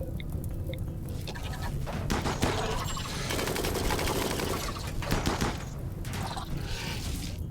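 Colonists in RimWorld open fire together in a sustained, loud burst of rapid gunshots and machine-gun rattle, dense and continuous with brief gaps, and no voices over it.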